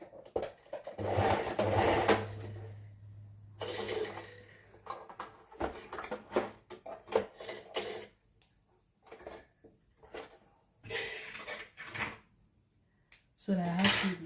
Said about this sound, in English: I'm going to be stitching about 1/2 inch, hopefully hoping that my thread is not going to get finished